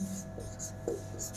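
Pen scratching on paper while notes are taken in a Hindi grammar lesson, soft brief strokes at close range over a steady low room hum.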